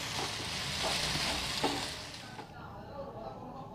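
Chilli idli sautéing in a pan, a soft continuous sizzle with occasional stirring scrapes that fades toward the end.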